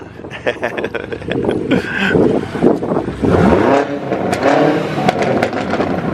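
A powerful new Ford Mustang engine with new downpipes revs up and down loudly nearby, its pitch rising and falling in bursts, with people talking over it.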